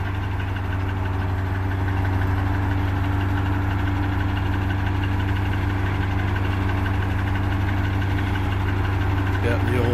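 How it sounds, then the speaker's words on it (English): An old Morbark machine's engine runs at a steady idle, a continuous low rumble with a faint knocking pulse that stays even from start to finish, with a voice speaking over it. "Got the old Morbark. She's running good now."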